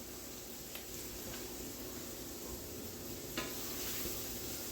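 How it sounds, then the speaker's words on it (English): Flour is stirred into browning sloppy joe meat for a steakhouse burger in a hot pan, a steady close sizzle with soft scraping strokes and a couple of faint spoon clicks throughout. "And we're gonna stir it up."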